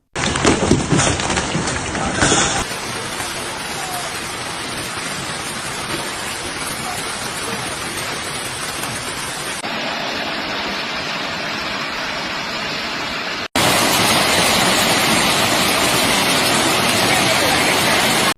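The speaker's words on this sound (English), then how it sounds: "It wasn't just hail anymore. It was a storm of frozen fury, an unrelenting assault from the sky itself." Heavy hail or rain hammers down steadily during a hailstorm in China, a dense, loud roar that holds without a break and grows sharper near the end, with no voices heard.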